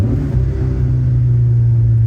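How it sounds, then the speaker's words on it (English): A Toyota AE86 GTS engine pulls hard in third gear, a loud, steady low rumble from inside the car with a sustained drone and no talking. "So even in third gear, if I stomp it, the car pulls."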